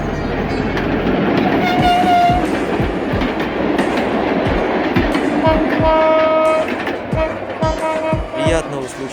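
A train rolls past in the Carpathian mountains with rhythmic clickety-clack of wheels over rail joints while its horn sounds several times, loud and close.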